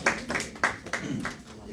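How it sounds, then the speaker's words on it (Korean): Sparse audience at an admissions seminar giving a brief, thin round of claps, a few distinct hand claps spaced unevenly, fairly quiet. "박수 부탁드리겠습니다"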